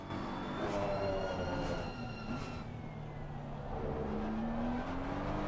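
Lamborghini race car in an endurance racing video game at Laguna Seca, a steady loud engine drone with rising and falling pitch as it runs through the gears, heard alone.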